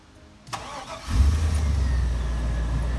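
A pickup truck engine cranks briefly and fires up on a cold 30-degree day, then settles into a loud, steady low idle rumble that continues close by.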